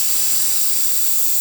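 A Breville espresso machine's steam wand after a full tune-up releases a steady, loud hiss of pressurised steam, continuous and unbroken with no voices.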